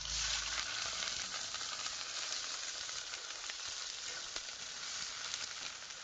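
Mung beans (munggo) cooking in a pot at a rural hut, with a steady, even sizzle and bubbling. The sound is continuous and fairly close, with no voices.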